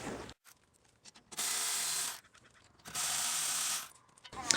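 A wrench loosens the rear brake caliper bracket bolt on a Toyota Prius, giving two sustained bursts of rapid ratcheting clicks separated by quieter handling noises, close up.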